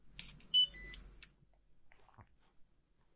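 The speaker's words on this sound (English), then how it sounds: "we can hear the buzzer acknowledging the join to the LoRaWAN network." A LoRaWAN module's buzzer gives a brief electronic beeping tone on joining the network, a few rapid high pulses, followed by faint clicks and quiet handling noise.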